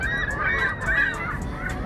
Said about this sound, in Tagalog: At ang mga ibon ay nag-iingay.